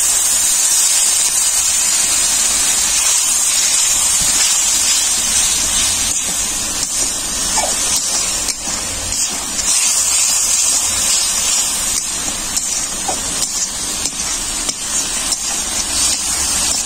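A small splash of water goes onto frying spices, Kashmiri chilli powder among them, in a pan for an egg curry, giving a loud, steady hiss and steamy sizzle that carries through unbroken with no talking.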